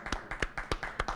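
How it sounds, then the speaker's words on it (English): A small group applauds at a charity head-shaving event, seven or eight distinct, close hand claps or taps in an uneven rhythm over a brief moment, fairly quiet with no talking. "Let's give her a huge round of applause"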